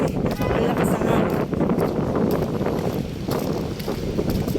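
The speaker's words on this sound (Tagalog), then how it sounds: "Ang lakas ng hangin." Strong wind roars steadily across the microphone, a dense rumbling buffet with no break throughout.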